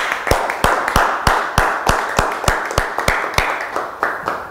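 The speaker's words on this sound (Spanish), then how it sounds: "Dale un aplauso al Señor Jesús." A church congregation claps in steady, even rhythm, a dozen or so loud, crisp claps in unison without talk.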